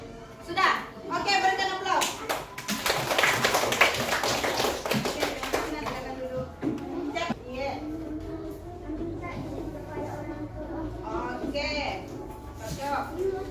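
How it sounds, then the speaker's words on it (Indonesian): Children clapping in a classroom, a burst of applause under a teacher's voice and kids' chatter, with scattered taps and claps continuing through the noisy room. "Oke, berikan aplaus."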